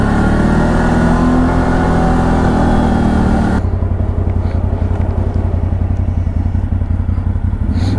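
A 4x4 vehicle in low range descends a snowy slope under engine braking, the engine droning loud and close with a rough, clattering idle that steadies after a sudden shift partway through.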